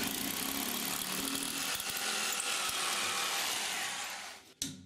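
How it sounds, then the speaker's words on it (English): A hammer drill bores into a tiled wall with a dense, loud, continuous grinding and rattling whir close by, running steadily for several seconds before stopping abruptly. "And then make a hole in the wall with a drill hammer."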